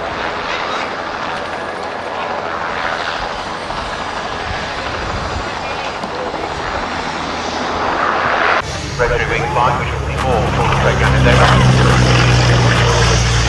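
A light aircraft engine keeps running after an engine check, a steady drone that becomes louder and harsher partway through as the power rises, with voices talking over it.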